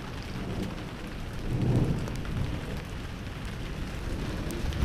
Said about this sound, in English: Because the storm's brewing.